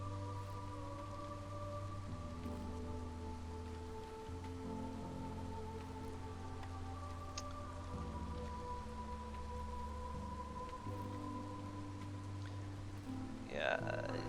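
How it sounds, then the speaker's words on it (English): Steady rain patter spread evenly across the whole stretch in the village-building game Against the Storm, set under sustained game music tones and drones, with no voices and one faint bright chirp near the end. "The rain's a little grody, but whatever."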